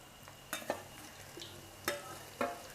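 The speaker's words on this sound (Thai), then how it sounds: "เนี่ยเวลาทอดหอมทอดกระเทียมนะคะ" Shallots and garlic fry in hot oil over medium heat. A faint, low sizzle sits under four or five sharp stirring scrapes and clinks.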